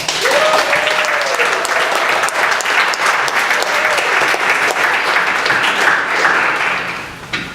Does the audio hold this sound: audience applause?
yes